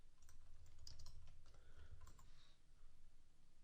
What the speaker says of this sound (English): So let's type in Weight Watchers